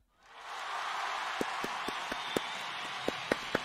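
A crowd cheering effect fired from a soundboard swells up quickly and holds as a dense roar of cheers and applause, with sharp clap-like peaks scattered through it.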